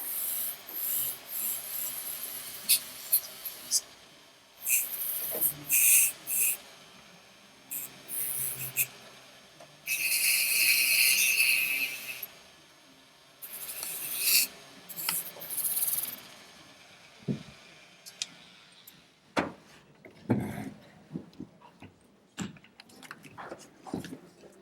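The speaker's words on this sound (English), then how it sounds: "So I'm doing two things with this wire wheel." A wire wheel on a power tool scours wood to clear burrs and tool marks, giving bursts of bright, hissing abrasion between quieter pauses, then scattered scraping and handling sounds.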